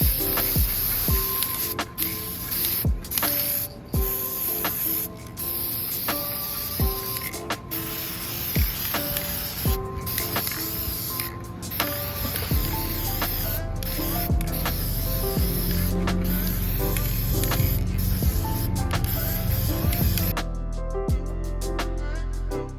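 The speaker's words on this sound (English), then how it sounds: "I'm going to go ahead and use the Krylon Metallic Gold Leaf spray paint" Krylon Metallic Gold Leaf spray paint hisses from the can in repeated short bursts with brief pauses, close up and steady, against a continuous background hum.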